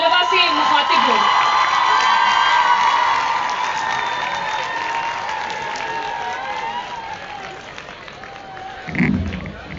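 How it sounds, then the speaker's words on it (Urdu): Audience applause and cheering fill a school event hall as a speaker is welcomed to the stage before students, loud and dense at first, then slowly thinning and fading, with a brief bump near the end. "میں آپ لوگوں کی بھرپور تالیوں میں گزارش کرتی ہوں محترم وسیع شاہ صاحب سے کہ وہ اسٹیج پہ تشریف لائیں"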